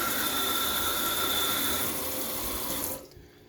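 Warm tap water runs steadily over an airsoft inner barrel during a rinse, a close hissing splash that stops abruptly near the end.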